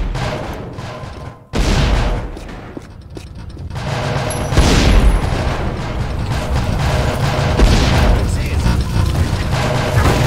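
Loud booming explosions from barrels being shot and crackling gunfire burst repeatedly in a busy, continuous Tomb Raider: Legend battle mix, with a sharp blast standing out near the middle.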